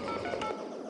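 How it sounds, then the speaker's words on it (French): Telephone keypad tones as a phone number is dialed, a quick run of touch-tone beeps lasting under a second, clear and close, with no voices. "Êtes-vous en train de composer le numéro de téléphone?"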